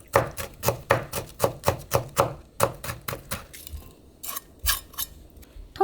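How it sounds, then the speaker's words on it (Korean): A knife mincing a red chili on a cutting board gives quick, even chopping taps, a dozen or so in a steady rhythm. They then turn into looser, scattered knocks, close up and with no talking. "홍고추 있으면 하나 다져서 넣을게요"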